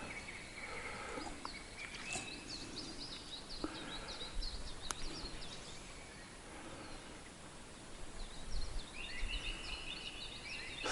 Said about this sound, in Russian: Слышите звук природы? Птицы поют.